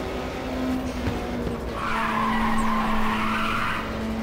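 A car in the PSP game Ridge Racer slides into a mild drift, its tires screeching loudly and continuously over a steady engine hum, the squeal swelling in the second half.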